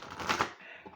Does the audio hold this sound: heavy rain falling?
no